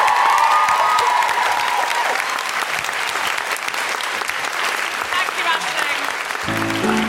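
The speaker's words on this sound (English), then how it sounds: "can we have a big round of applause for Aisling for speaking up?" A live comedy podcast audience breaks into loud, sustained applause with scattered cheering, a dense wash of clapping that holds steady throughout.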